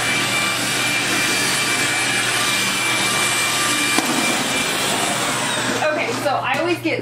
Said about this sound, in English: Here come the vacuum lines.